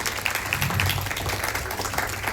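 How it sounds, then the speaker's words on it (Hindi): An audience claps together at a foundation day celebration, a steady, dense patter of hands that holds at an even level for a couple of seconds. "ताली बजाओ भाई"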